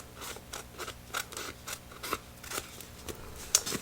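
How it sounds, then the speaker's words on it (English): Scissors snipping through paper while trimming excess from a one-sheet four-pocket paper folio, a steady series of close, crisp cuts at roughly half-second intervals. "I'll cut away the excess around here just with a pair of scissors"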